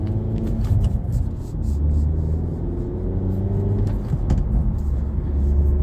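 A 2025 Hyundai Elantra N engine pulls under full throttle on a small back road, a loud, continuous, close droning growl whose pitch climbs and shifts in steps across roughly six seconds, with no voices over it.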